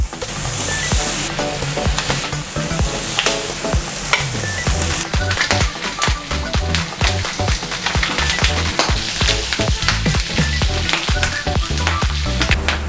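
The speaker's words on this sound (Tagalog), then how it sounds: "So, ilagay natin dito sa ating frying pan or grill pan." Marinated pork for pulutan dinakdakan fries steadily in a frying pan or grill pan, a dense, continuous sizzle crackling with oil pops and occasional stirring clatter, loud and close throughout with no talking.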